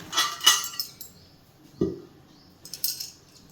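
A metal lid lifted off a pan of prawn masala gravy, giving a few close clinks and rattles at the start, then a single softer knock and some light clatter near the end.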